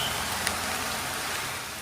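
Heavy rain pours in a hill area, a dense, even wash of falling water that fills the whole stretch with steady hiss and no pauses.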